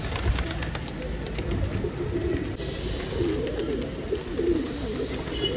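Pigeons coo softly and steadily as they settle one by one onto a rooftop loft, under a constant wash of outdoor background noise.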